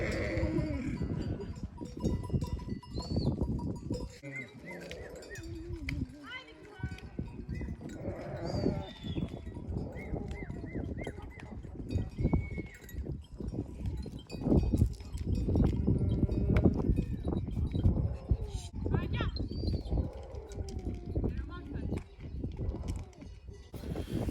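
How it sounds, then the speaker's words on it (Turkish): A flock of sheep passes nearby, bleating repeatedly while many small bells clank and jingle continuously, with hooves shuffling underneath. "Koyunlar da geliyor."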